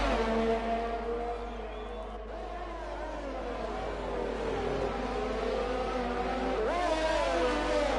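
Formula One race cars in a video game racing through the Monaco street circuit, a Red Bull close behind an Alfa Romeo. Whining engine tones rise and fall continuously as the cars pass. Faint commentary runs underneath.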